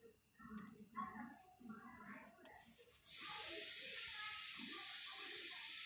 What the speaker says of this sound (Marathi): आता मला त्याच्यात आहे ना अजून पाणी ओतायचं आहे,